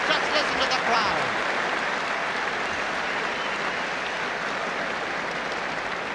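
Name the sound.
hurling match crowd at half-time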